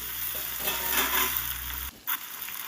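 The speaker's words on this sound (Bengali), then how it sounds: "আলুটা দিয়ে পেঁয়াজের মধ্যে সুন্দর করে নেড়েচেড়ে একটু ভেজে নেব" Potatoes fry with onions in a pan, a continuous close sizzle with stirring scrapes that cuts off abruptly near the end, followed by a short clatter.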